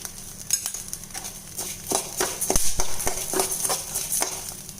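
Toor dal roasting in a pan with salt and asafoetida, stirred with a spatula that makes repeated scraping and rattling strokes of the dry lentils against the metal, fairly close, with no talk.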